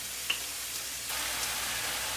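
A steady, soft sizzle of garlic frying in a hot pan, with a faint crackle, growing slightly louder partway through.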